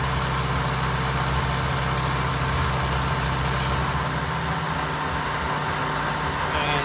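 Milling machine with a power rotary table climb milling, a loud, continuous mechanical hum with a steady low drone and broadband cutting noise that eases slightly near the end, no talk.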